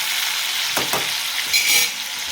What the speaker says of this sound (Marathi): टाकूया आपण हे टमॅटो इथे असं. तर आता हे थोडंसं असं हलवून घ्यायचं